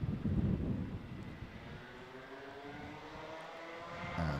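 Twelve Minimax racing karts pull away together at the start of a kart race, a loud blurred engine drone with wind noise that eases slightly as the pack moves off, then swells again near the end.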